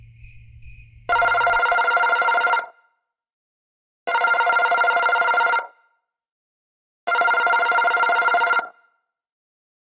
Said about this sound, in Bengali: আরে শ্বশুরকে ফোন করে জেনে নে না হ্যাঁ হ্যাঁ ফোন হ্যাঁ, করছি ফোন করছি